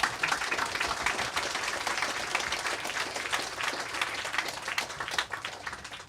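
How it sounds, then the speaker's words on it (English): Audience applause for two authors at a book talk, a steady wash of many hands clapping throughout, moderately distant and even in level with no speech over it. "We give our authors here a round of applause"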